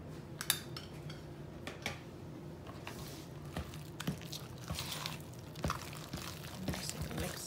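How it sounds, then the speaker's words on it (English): Sour cream being folded into banana bread batter gives soft, wet squishing with irregular clinks and scrapes of a utensil against a bowl, quiet and close, with faint talking at times. "Just mix it up. Just fold that in."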